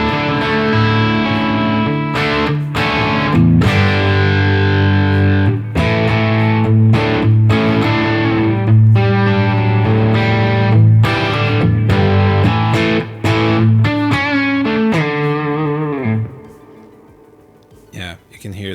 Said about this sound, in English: you can hear the delay there